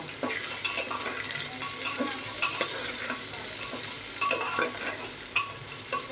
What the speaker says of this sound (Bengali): পেঁয়াজটা দিয়ে একটু নাড়াচাড়া করব।